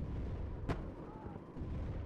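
A single sharp gunshot or artillery blast cracks once near the middle of a steady battlefield din in the Cold War strategy game WARNO, with dense rumbling gunfire filling the background throughout.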